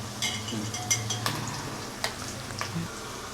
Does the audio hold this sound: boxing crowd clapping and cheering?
no